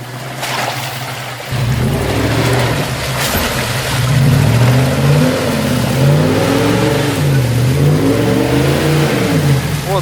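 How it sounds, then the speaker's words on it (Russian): A UAZ off-road vehicle on 36-inch tires with solid axles and a bent steering tie rod revs its engine while driving, a loud close mid-pitched drone that swells and dips repeatedly after a quieter opening second. "Теперь едет УАЗик."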